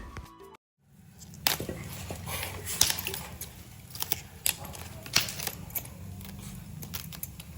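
Knife cutting through cauliflower on a board in a home kitchen while making pav bhaji, with a string of sharp, irregular chops and crunches heard close up over a low background hum.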